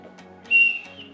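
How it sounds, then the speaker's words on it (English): A child makes a single short, clear whistle as part of a speech and breathing exercise, a thin steady tone rising briefly out of a quiet room. "And this is a whistling."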